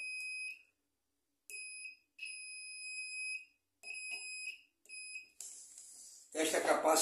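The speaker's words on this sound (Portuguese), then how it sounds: "Se tiver em curto bipa." A series of shrill electronic beeps from a short-circuit detector testing a capacitor, some short and some held for over a second, separated by silence, followed by a burst of rustling noise.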